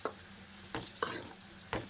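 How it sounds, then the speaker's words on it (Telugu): Onions and tomatoes fry together in a pan with a steady low sizzle, broken by four sharp scraping stir strokes of a spoon against the pan, close and moderately loud. "టమాటో కూడా కలిసి రెండు అయితే బాగా ఫ్రై చేసుకోవాలండి."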